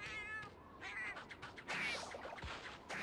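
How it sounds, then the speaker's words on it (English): A small cartoon cat companion in Monster Hunter Generations meows repeatedly, several short, bright calls in a row, close and clear with no talking. "Aw, the cat runs!"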